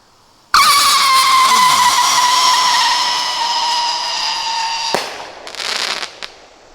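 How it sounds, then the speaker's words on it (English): Sky Howler firework by Monkey Mania at a Fourth of July show: a sudden loud launch followed by a long rising-then-falling howling whistle, ending in a sharp bang and crackle, outdoors. "here goes a Sky Howler by Monkey Mania"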